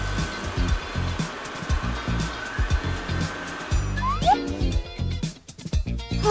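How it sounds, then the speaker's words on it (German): A hand dryer blows air in a loud, continuous roar that cuts out near the end, with a brief squeaky tone and a few clattering sounds in the room. "Schau, der Händetrockner da drüben."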